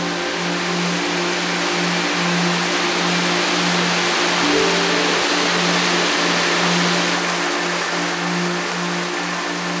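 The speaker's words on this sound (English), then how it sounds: "Water gushing forth relentlessly from the cliff." Shiraito no Taki Falls in Japan, where spring water gushes from a cliff face at over 100,000 tons a day, gives a loud, steady broadband roar running unbroken throughout, with a low tonal hum beneath it.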